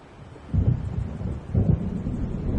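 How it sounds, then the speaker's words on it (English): Low rolling thunder from an approaching storm in the Alan Wake video game, two deep rumbles swelling over a constant dull background, with no speech. "It seems there's a storm coming."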